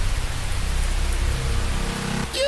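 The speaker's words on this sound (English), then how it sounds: "Showers like this never wake the dragon. It always sleeps right through the rain" A steady rain shower falls on a surface, a dense continuous wash of droplets, fairly loud and close, with a brief shift and a whistling tone right at the end.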